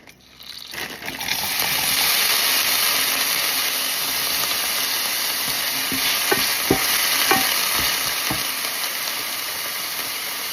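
Oil in a pan for spring rolls with apple sets up a loud, steady sizzle that starts almost at once and keeps going close by, with a few faint clinks of utensils.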